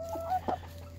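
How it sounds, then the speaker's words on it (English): A single chicken on a farm makes two short, soft clucks in quick succession, with no other sound around them. "She's a lone chicken."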